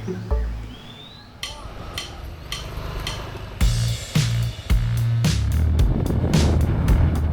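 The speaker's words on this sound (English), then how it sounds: "plus there's the occasional motorbike that drives by." A motorbike drives by nearby on a Thai island, its engine growling louder over several seconds, mixed with sharp knocks and clatter.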